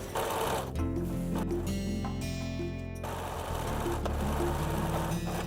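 A sewing machine runs in bursts while stitching back the seam allowance on a sun dress, its motor whirring and buzzing with short pauses between runs, close by.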